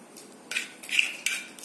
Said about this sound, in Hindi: इसके अलावा अब मैं नमक डाल रही हूँ।